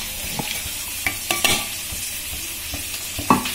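Potatoes frying in a pan for aloo posto, a steady soft sizzle broken by occasional clinks and scrapes of stirring, close and alone without talk.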